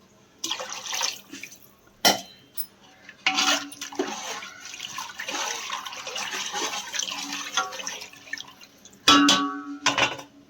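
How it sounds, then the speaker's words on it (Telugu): Water splashes and trickles into a metal pot in several short pours for cooking rice, with clanks of the vessel between them, close by in a quiet room. "4 చెంబులన్నర పోసుకోవాలి నీళ్ళు"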